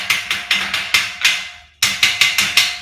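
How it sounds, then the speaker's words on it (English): Hammer blows on metal garage shelving unit parts ring out in a quick series of sharp, loud strikes, a brief pause, then several more close-up hits. "May take the hammer to it just to make sure."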